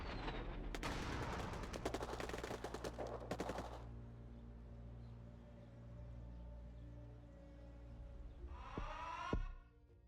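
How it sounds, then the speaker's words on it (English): Gunfire and airstrikes in the strategy game Rebel Inc: rapid machine-gun bursts up front, a low rumbling lull, then a sharp blast near the end. "I'm just gonna need airstrikes."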